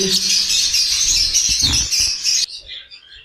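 Small caged birds, including white Java sparrows, in a pet bird shop give rapid, high chirps and twitters in a busy chorus, with a brief thump partway and a few scattered calls at the end.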